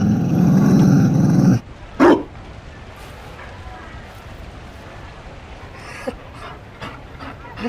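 A Mabari war dog in the video game Dragon Age Inquisition gives a short bark and a low growl after a burst of loud game noise, with faint yips and rustling over a steady ambient hum.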